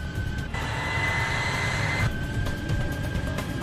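Airliner engines roar steadily at a distance during the takeoff roll on a runway, with a sustained whine partway through and rumbling underneath.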